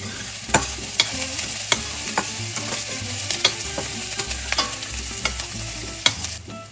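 Red onions and garlic fry in a pan with a steady, close sizzle, broken by scattered clicks and scrapes from stirring.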